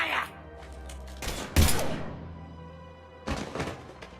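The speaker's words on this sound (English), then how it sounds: "Now open fire!" Mass Effect 3 gunfire erupts in a few heavy bursts, with loud thudding impacts near the middle and again toward the end, separated by quieter stretches with some low ambient rumble.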